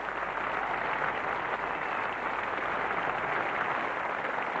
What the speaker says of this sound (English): Again, a great reception here from what's just about a full house now